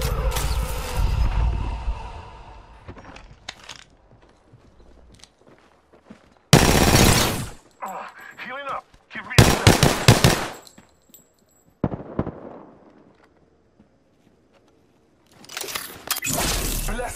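Gunfire from the video game Apex Legends, with loud bursts of automatic fire separated by quieter gaps, heavy and close, mixed with faint game effects.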